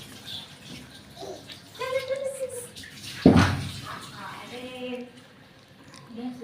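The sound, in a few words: cold water added little by little to mix pitha batter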